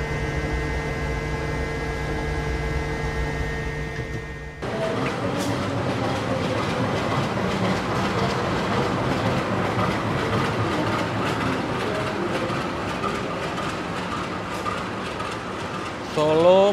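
A Lodaya stainless steel executive-class train runs on rails, giving a steady rumbling roar with rattling and clatter heard from inside the carriage, preceded by a quieter hum and ending with a brief screech.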